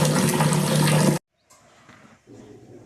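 Water rushes steadily in a kitchen while rice is rinsed before cooking. A loud stream cuts off abruptly, then quieter splashing and trickling follow.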